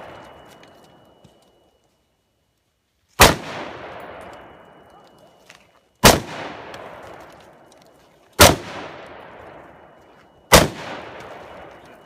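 Four loud, sharp gunshots from a fired gun, spaced a few seconds apart, each a close crack followed by a fading echo tail, with quiet between shots.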